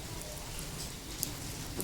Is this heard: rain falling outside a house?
yes